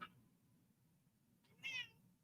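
A pet cat meows twice, first a short call and then a louder, drawn-out one, fairly faint in a quiet room with no talking.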